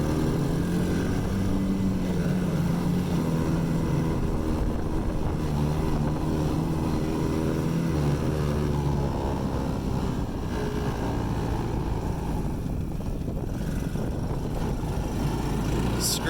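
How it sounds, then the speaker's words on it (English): A small Ice Bear mini jeep's engine runs steadily throughout with a loose rattle, a continuous low droning hum that stays loud and close the whole time. "Hear that rattle's already starting, and I need some choke still."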